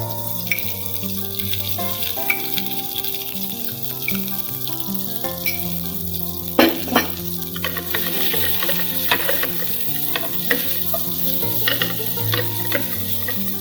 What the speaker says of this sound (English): Let the rice cook with onion and mushroom